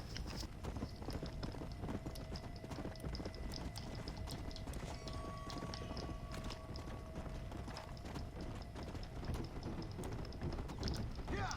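Horse hooves gallop in a steady clip-clop run through Red Dead Redemption: Undead Nightmare, with a faint mechanical hum and tones in the game mix, fairly quiet and continuous.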